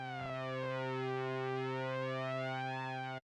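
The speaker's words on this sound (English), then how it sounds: "now you can actually hear the pitch modulation from oscillator 1" A steady Elektron Analog Four synthesizer drone whose upper harmonics sweep slowly up and down, a gentle warbling pitch modulation from oscillator 1, then it cuts off abruptly.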